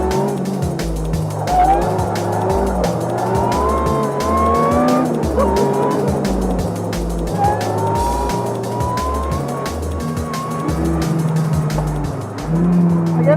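An Ariel Atom 300 sports car is driven hard on a race track. The engine is loud and close, rising and falling in pitch through repeated gear changes, with tyre squeal layered over the steady roar.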